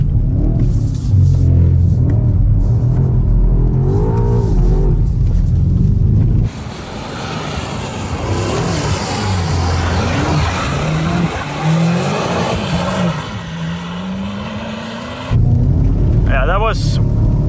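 A car with rear-wheel drive and a gearbox tune accelerates hard, its engine roaring loudly from inside the cabin with rising and falling revs, a quieter gear-change stretch in the middle, and the roar returning at the end.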